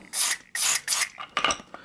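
Cleaner sprayed into the parts of a desert air cooler's shaded pole pump motor, heard as three loud hissing bursts, each about a quarter to half second, followed by softer scraping and fizzing sounds, with no talking.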